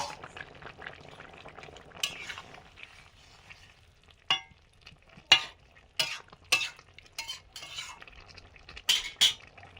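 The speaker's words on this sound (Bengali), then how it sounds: "সর্ষে শাকের বড়া সর্ষের তেল দিয়ে ভাজছি লোহার কড়াতে।" Mustard-greens fritters frying in mustard oil in an iron wok, a soft sizzle broken by sharp metallic scrapes and clinks of a spatula against the wok, coming in irregular bursts and close by.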